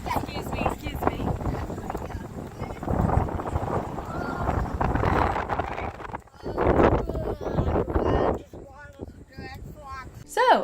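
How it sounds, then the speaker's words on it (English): Wind blowing hard at the top of a lighthouse on the Outer Banks, a loud steady roar buffeting the microphone, with voices and a child's cries breaking through near the end. "as you could hear, it was pretty windy up there."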